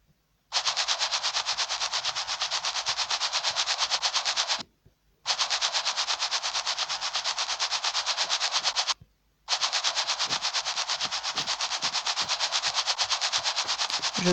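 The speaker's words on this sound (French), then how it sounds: "Je gratte tout, mais tout." Scratching in The Simpsons video game comes as a harsh, loud rasping buzz in three long continuous stretches, each several seconds, broken by brief silences.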